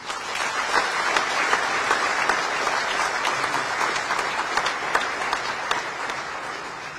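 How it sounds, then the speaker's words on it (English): Loud, dense applause from a large audience at an investment summit in Bangladesh, sustained clapping filling the hall throughout with no break. "Let's give another big applause for them."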